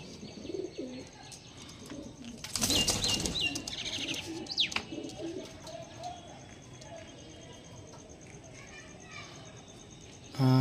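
Kaira pigeons flutter in a brief, close burst of flapping wings, surrounded by soft cooing and other bird calls, with a person talking quietly in the background.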